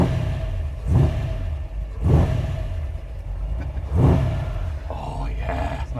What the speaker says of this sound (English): fire up this NASCAR engine? Let's do it.